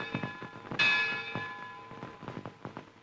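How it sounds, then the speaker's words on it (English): The historic Lutine bell at Lloyd's of London is struck once, a single bright ringing tone that decays slowly under faint background clatter and murmur. "In a case of such importance, the historic lutein bell is rung."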